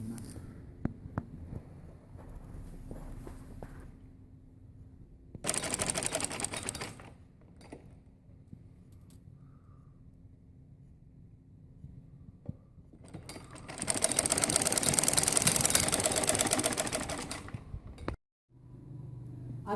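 A sewing machine stitching a salwar runs in two loud bursts, one short and one longer, each a dense rattling whir, with quiet handling noises between them.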